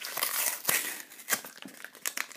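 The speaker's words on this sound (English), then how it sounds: "there's no good way to preserve this packaging, since it is such a nice looking package. You just sort of have to rip at it." Crinkly foil wrapper of a Magic the Gathering booster pack being ripped open by hand, with close, sharp crackles and tearing bursts in irregular quick succession.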